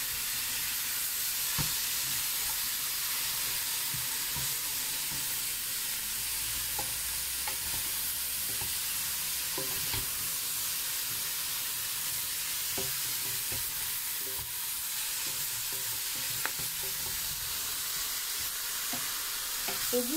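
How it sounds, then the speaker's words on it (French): Beef in a frying pot hissing and sizzling steadily as flour is stirred in, with scattered scraping knocks of the spoon against the pot, close and continuous. "On va ajouter la farine et on va bien mélanger."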